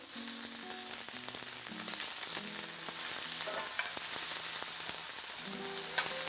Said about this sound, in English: So add the onions in, and they'll start to saute very gently.